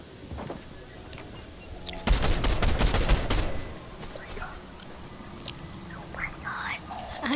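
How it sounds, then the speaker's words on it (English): Gunfire in the battle royale video game Fortnite, a burst of rapid shots in the middle of the clip heard fairly close, set against quiet game ambience with faint sounds before and after. "Gunshots over there."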